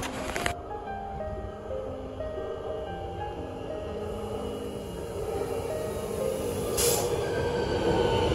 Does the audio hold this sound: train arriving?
yes